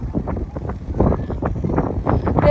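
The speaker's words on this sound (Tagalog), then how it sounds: "Ang hangin pati dito." Strong wind by the sea, with waves rough nearby, buffets the microphone in loud irregular gusts and rumbles, continuous and close, with no voices.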